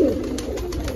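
A Dubaaz pigeon coos softly nearby in a brief, low, throaty murmur with faint repeated pulses.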